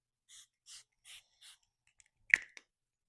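Four short, soft hissing spray puffs at an even pace, then a few faint clicks and a small tap in an otherwise quiet room.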